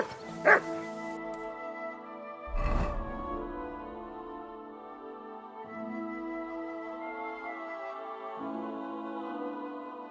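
A dog in the video game Kingdom Come: Deliverance II gives a sharp bark, then a louder yelp. Drawn-out whining whimpers follow, rising and falling several times, close and fairly clear.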